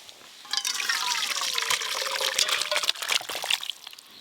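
Thin mutton curry with capsicum poured from a cooking pot into a serving dish, a close liquid splashing and trickling stream lasting about three and a half seconds before tapering off.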